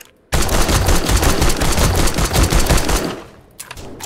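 Rapid automatic gunfire aimed at a bear in the video game 7 Days to Die, a loud, dense burst of shots lasting about three seconds before trailing off into a few scattered pops.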